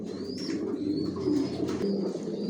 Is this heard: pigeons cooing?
yes